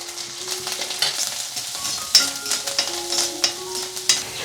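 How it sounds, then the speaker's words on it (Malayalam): Slit green chillies, ginger, curry leaves and garlic sauté in hot oil in an iron pan, a steady sizzle broken by sharp crackles and the scrape of stirring, with a high whine lingering underneath. "നമ്മൾ ആദ്യം പച്ചമുളക് ഒന്ന് എണ്ണയിലൊന്ന് പൊട്ടിച്ചെടുക്കുന്നുണ്ട്."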